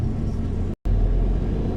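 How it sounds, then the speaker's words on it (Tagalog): Heavy road traffic rumbles near Santa Maria, Bulacan: a continuous low engine drone from passing cars and buses, broken by one brief silent cut, with no voices. "medyo mabigat yung traffic dito"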